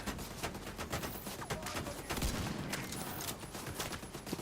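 Turret gunfire in The Division 2 video game: rapid, dense bursts of shots crackle continuously at moderate loudness, with faint game sounds underneath.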